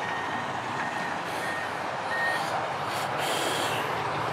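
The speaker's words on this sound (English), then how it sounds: "these trucks going by, these big trucks, big 18-wheelers, dude, I can't hear a thing" Big 18-wheeler trucks roll past outdoors with a constant loud engine and road roar, and faint reversing beeps repeat in the wash of noise, with no talking.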